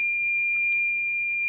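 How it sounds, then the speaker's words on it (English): A steady high-pitched electronic alarm tone from a Mark 7 powder check sensor beeps continuously, with faint mechanical clicks and handling noises around it. "There's the alarm."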